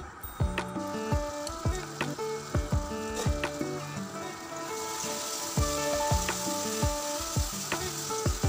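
Potatoes and spices sizzling loudly in a pan, with repeated sharp scraping strokes of a spatula stirring them at a steady rhythm, close and continuous.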